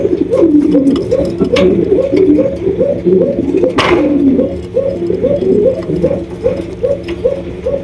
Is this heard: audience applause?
no